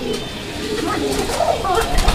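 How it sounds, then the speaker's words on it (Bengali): A pigeon coos close by in soft low repeated calls, heard over steady background noise at a pigeon seller's, with other birds faintly around. "এই যে দেখেন, এই কবুতরটা দিলে ইনশাল্লাহ ডাকবে।"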